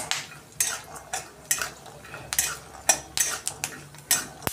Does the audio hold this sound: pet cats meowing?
no